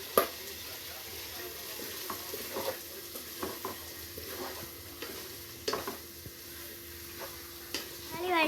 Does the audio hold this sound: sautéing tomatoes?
yes